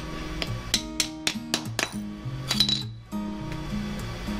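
A small mason hammer taps thin brick in quick, light, ringing clinks, about a dozen close strikes in an uneven rhythm, then a softer tail of faint knocks.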